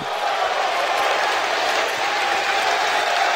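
Steady crowd noise from an esports arena audience at a Counter-Strike match on Inferno in Boston, a continuous roar of cheering and applause filling the space at even loudness throughout.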